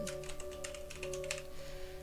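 Keys clatter on a computer keyboard in a steady run of light taps, close and clear over a faint electrical hum, with no voice.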